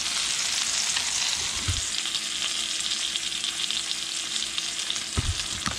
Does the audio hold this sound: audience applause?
no